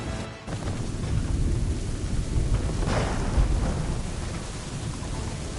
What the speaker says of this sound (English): it's high time we find some cover from this storm